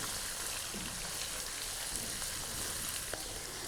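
Boiled mutton frying with garlic in a pan for aloo gosht, a steady dense sizzle with faint occasional pops, close and even throughout with no talking.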